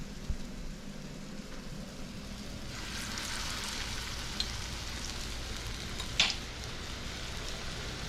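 Soft, steady sizzling of fish frying in hot oil in a pan, swelling slightly midway, with a couple of sharp pops and clicks close by.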